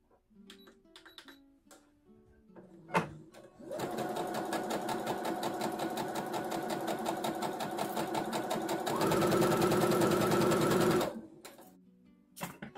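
A sewing machine stitches a seam in sheer fabric: after a few quiet clicks, a steady close rapid mechanical whir runs for about seven seconds, speeding up near the end before stopping.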